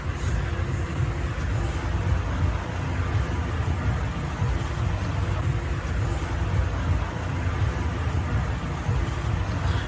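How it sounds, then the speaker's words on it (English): A car engine idles steadily during an overheating and coolant air-pocket fix, a continuous low rumble that stays even and close throughout. "I would start the car up and run it"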